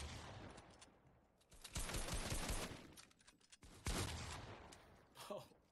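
Loud bursts of rapid automatic gunfire in a Fortnite 1v1 match, firing in several heavy volleys separated by short gaps, with a dense, crackling spray of shots.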